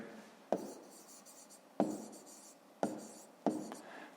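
Digits are written by hand on paper during a Ukrainian fifth-grade maths exercise: four distinct pen strokes land in sequence, each with a sharp tap and a scratchy trail, quiet and close.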